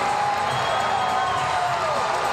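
Hockey arena crowd at a Watertown Wolves versus Binghamton Black Bears game roaring after a fight, a steady dense wash of cheering and shouting throughout, with a faint whistle-like tone drifting above it.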